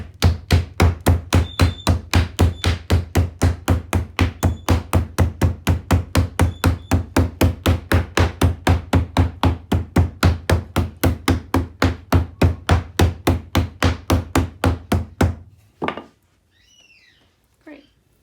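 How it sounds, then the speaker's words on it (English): Clay being pounded by hand to flatten and mix hard and wet pieces: a fast, steady run of dull, close thumps, dozens in a row, then a pause with faint handling sounds. "We're just looking for a way to pound out some of the harder areas of clay and get it to overlap and fold and mix with the wet stuff."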